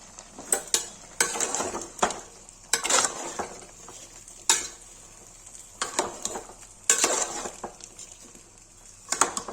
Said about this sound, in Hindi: देखिए गाइस मटन हो गया, इसे प्याज डाल देंगे।